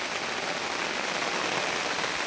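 Heavy rain pours down in a dense, steady hiss that stays loud and unbroken throughout, like a hard downpour drumming on the surfaces around it.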